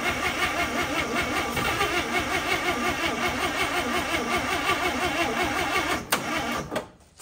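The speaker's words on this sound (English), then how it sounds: "Man, she just sounds weak still." A 1955 Chevy engine cranks steadily and struggles to catch, its rapid rhythmic starter chug running loud and close for about six seconds before cutting out abruptly.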